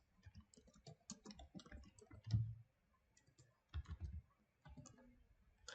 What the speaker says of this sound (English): I will write show databases